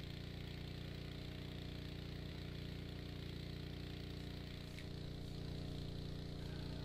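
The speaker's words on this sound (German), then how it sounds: "Und so mit dem Motor hier" A tractor engine in Farming Simulator 17 runs at a constant, even hum with a low droning tone throughout, and no change in pace.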